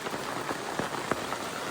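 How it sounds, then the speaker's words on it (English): Small hailstones pelt a camp awning beside a creek, a steady dense patter with a few sharper ticks standing out, no voices. "now it's hailing outside."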